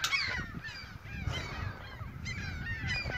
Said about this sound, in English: There is so many seagulls. So many, bro. They started swarming us.